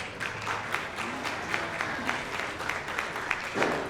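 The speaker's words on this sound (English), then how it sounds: "Let's give these intermediates a big round of applause." Applause for intermediate showmen at a county junior livestock show, a steady wash of clapping from a crowd in a large arena, somewhat distant and even throughout.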